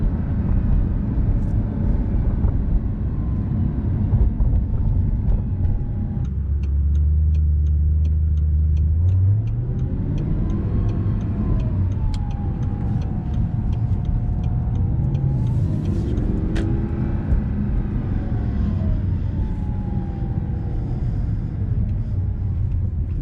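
A stock 2009 Audi R8 with a 4.2L V8 pulls away from a stop in traffic. The engine rumbles loudly and climbs through rising revs, with upshifts along the way, heard from inside the cabin without any talk.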